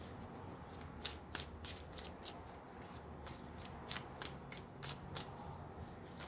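Tarot cards shuffled by hand in a quiet room, a run of crisp riffling snaps and clicks at an irregular but steady pace, close and fairly soft with no talking.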